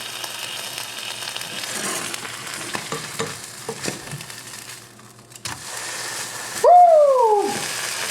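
Tuna splashed with pineapple juice grills in a pan while a spatula scrapes and taps around it. A soft sizzle runs throughout, and near the end a voice gives a loud, drawn-out whoop.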